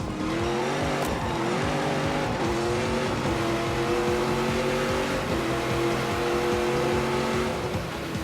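A car engine screams at full throttle in The Grand Tour driving game, loud and continuous, its pitch climbing and dropping through repeated gear changes with a faint tire squeal.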